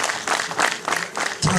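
A church parish congregation claps in short bursts, rhythmic waves of close, loud applause with brief gaps between them.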